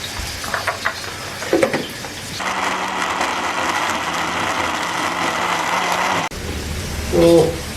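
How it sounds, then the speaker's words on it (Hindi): A kitchen blender grinds roughly chopped tomatoes with a little water, a steady whirring roar that runs for several seconds after some handling knocks and then cuts off, close and loud. "तो इसको हम डालते हैं ब्लेंडर के अंदर"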